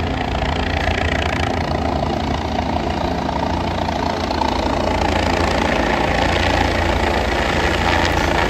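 Steady, unbroken drone of a helicopter engine on the Kedarnath pilgrimage route in India, loud and close, holding level throughout with no voices.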